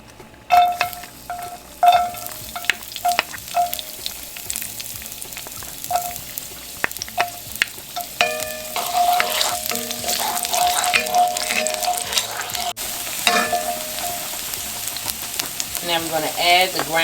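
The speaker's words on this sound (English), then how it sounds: "Let's get started by sauteing our garlic for 30 seconds." Chopped garlic sautés in a pan for spaghetti sauce, a loud close sizzle broken by repeated spatula taps and scrapes against the pan, building to busier clattering frying near the end.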